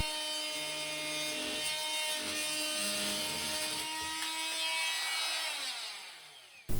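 An inexpensive oscillating tool cuts through PVC pipe with a continuous, close, loud buzzing rasp, its pitch wavering as the blade works through the plastic before it stops abruptly at the end.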